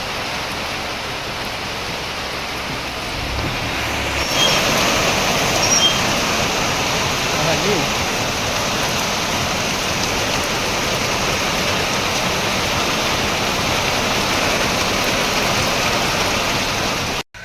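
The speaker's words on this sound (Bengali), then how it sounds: "আর এখানে প্রচুর বৃষ্টি হচ্ছে এখন," Heavy rain pours down in a loud, dense, unbroken roar, swelling stronger after the first few seconds and holding steady until an abrupt cut at the end.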